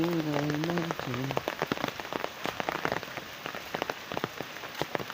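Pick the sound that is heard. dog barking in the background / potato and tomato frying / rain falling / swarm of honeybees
rain falling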